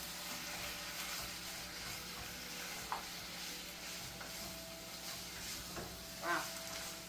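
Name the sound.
stirring and sizzling shrimp lo mein in pan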